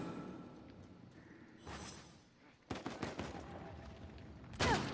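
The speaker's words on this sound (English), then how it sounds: "Stop shooting me! Stop shooting me!" Gunfire in Uncharted 4 multiplayer, a quiet stretch followed by bursts of close rapid shots and sharp cracks, with a final loud blast at the end.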